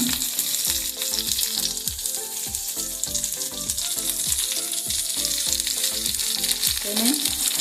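Onion and greens frying in oil in a pan, a steady dense sizzle running throughout with repeated stirring scrapes and knocks, close and fairly loud with no talk.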